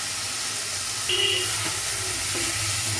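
Chopped tomato fries in a pan with browned garlic and onion, salt and turmeric, giving a close, steady hiss and sizzle with a couple of brief sharper spits.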